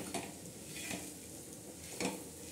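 Peanuts dry-roasting on a tava with a little salt for chutney, stirred with scraping, clinking strokes at a slow irregular pace over a soft background hiss; no voices.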